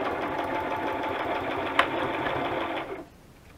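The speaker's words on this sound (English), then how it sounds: "I think they call it chain sewing" A sewing machine chain sewing small paper stamp booklets runs in a fast steady whir for about three seconds, close and loud, then stops abruptly into quiet.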